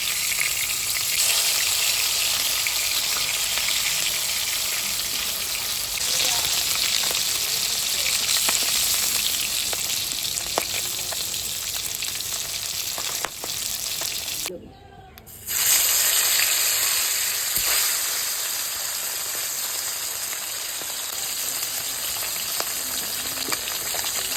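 Foli fish from the Ganges fry in hot oil with a loud, dense, unbroken sizzle that cuts out for about a second near the middle before resuming.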